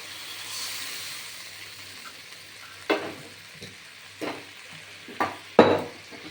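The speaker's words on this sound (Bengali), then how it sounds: "একটু নেড়ে চেড়ে আমি দেখুন এই জল দিয়ে দিলাম" Stirring mustard fish curry in a pan after water is added, a faint background sizzle broken by several distinct spoon scrapes and knocks against the pan, close and quiet, with no speech.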